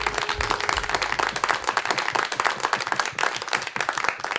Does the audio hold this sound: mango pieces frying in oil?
no